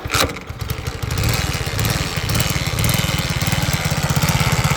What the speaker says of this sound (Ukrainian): В общем, завів, але щось там ще в моторі якісь є звуки.